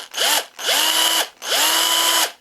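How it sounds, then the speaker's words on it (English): A power drill with a small bit bores a port into a swimbait mold in three bursts. Each burst has a whining pitch that rises as the motor spins up, a brief gap between bursts, and the sound is close and loud. "I'm going to go ahead and drill a little port with a 16-inch bit"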